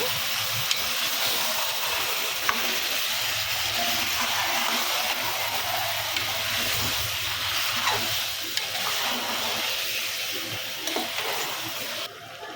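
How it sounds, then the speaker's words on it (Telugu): Washed mutton stirred in a hot pot for a curry, giving a steady sizzling, steaming hiss throughout with soft scraping and stirring sounds close by. "మనం నీట్గా వాష్ చేసి పెట్టుకున్న మటన్ని ఇందులో పెట్టేసుకోవాలి ఇలా బాగా కలుపుకోండి ఒకసారి"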